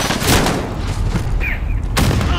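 Call of Duty: Modern Warfare gunfire in loud, close bursts with a sharp burst at the start and another near the end, heavy low rumble between.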